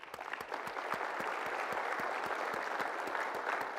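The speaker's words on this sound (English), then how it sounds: "Can we give them a round of applause for that?" A conference keynote audience applauds, many hands clapping in a dense, steady burst that holds at full strength throughout.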